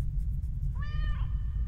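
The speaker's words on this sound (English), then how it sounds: "Meow indeed, Ginger." A cat meows once in the horror video game The Stairway, a short rising-then-falling call heard over a steady low rumbling ambience.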